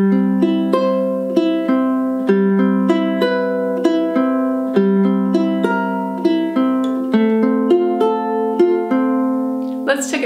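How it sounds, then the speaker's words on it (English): Ukulele fingerpicking plays a steady arpeggiated pattern for a love ballad, individual plucked notes ringing close and clear in a continuous even rhythm with sustained low notes beneath, alone with no talking. "Our second pattern is a finger picking pattern"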